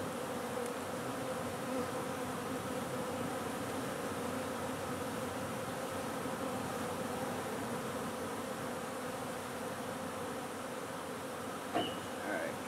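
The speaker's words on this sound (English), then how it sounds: "Come on, bees keep getting in the way." Bees buzz steadily at a low, even drone throughout, faint and continuous, with no voices.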